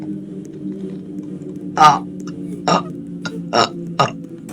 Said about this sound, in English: Hold on, I need to burp.